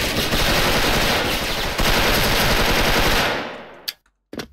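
An M4 rifle in the shooter game Special Force fires a loud, rapid, sustained automatic burst for a few seconds, then cuts off, followed by a couple of brief, sharp sounds.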